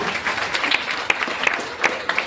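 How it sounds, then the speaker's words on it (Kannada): Loud applause from a school audience honoring prize-winning students, a dense wash of clapping with sharper individual claps standing out, steady throughout. "ಒಂದ್ಸಲ ಜೋರಾದ ಚಪ್ಪಾಳೆ ಬರಲಿ"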